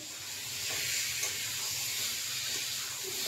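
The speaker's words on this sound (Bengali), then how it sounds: "আমি মশলা ভাজছি" Spices frying in a pan for a Bengali fish and egg curry give a steady, close hiss and sizzle that runs unbroken, with faint scattered crackles and no talk.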